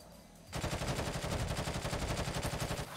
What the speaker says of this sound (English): Shots are being fired.